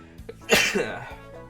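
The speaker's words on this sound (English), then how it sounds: "Hold on, I gotta sneeze." A single loud sneeze bursts out, preceded by a brief sharp intake of breath, then quiet.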